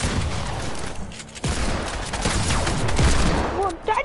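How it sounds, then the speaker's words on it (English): SMG fire in a video game, dense overlapping bursts of rapid shots and booms that run nearly continuously and loud, with voices faintly underneath. "Yeah, this is my SMG."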